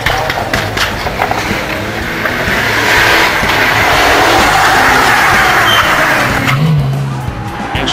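A Group N rally car racing through a special stage, its engine roaring loudly and close, swelling to a peak midway before easing, with gravelly tire noise and scrabbling throughout.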